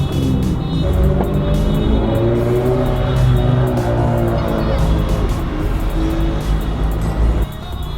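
Cars idling and rolling slowly into spots at a cruise meet of RSX Type S and other tuner cars, a steady close engine rumble throughout with people talking nearby.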